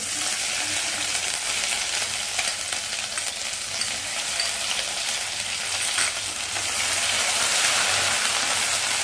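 Green chili paste frying in garlic oil for a chakvat greens bhaji, a loud, steady hiss and sizzle with a rain-like crackle that holds without a break, close up.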